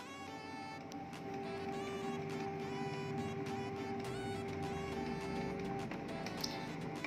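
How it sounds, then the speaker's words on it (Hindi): A Canon G-series inkjet printer running on its own, a steady mechanical whir with a sustained motor tone and repeated light clicks of the carriage over about seven seconds, no voices. "प्रिंटर को अपना वर्किंग करने दें, प्रिंटर ऑटोमेटिक अपना वर्क करेगा, कर रहा है।"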